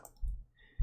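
A couple of soft, close mouse clicks come from navigating a menu in the Lord of Dwarves video game, each a short, dull tap over near silence.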